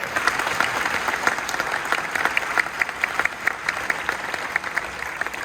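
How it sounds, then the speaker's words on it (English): An audience in an expo hall at Expo 2025 Osaka applauds a Saudi Turuk performance, many hands clapping in a dense, steady roar that holds at even loudness throughout. "Please join me in giving a big round of applause to Saudi Turuk for their performance"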